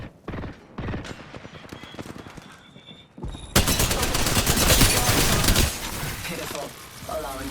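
Bursts of rapid video game gunfire, sparse single cracks at first and then a dense, loud volley of automatic fire, with voices speaking over parts of it.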